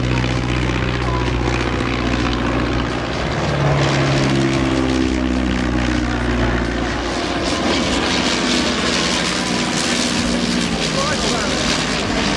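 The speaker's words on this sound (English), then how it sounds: "Sopwith Fighter." Sopwith fighter biplane at a Shuttleworth airshow, its propeller engine droning loud and steady throughout with a slowly shifting pitch as it passes, broad outdoor noise around it.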